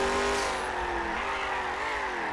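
A simulated car engine with a turbo, from the Garry's Mod simfphys vehicle mod, revs loudly and close with a bright whistling whine that shifts in pitch as it holds and accelerates.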